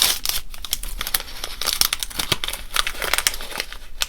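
Plastic bag of mini candies crinkled and rustled continuously up close, with dense bursts of crackling throughout and no talking.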